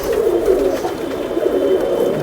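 A Kamangar flying pigeon, a Zeera and Sabay type bird, coos in low, soft, continuous rolling tones close by, with no talk over it.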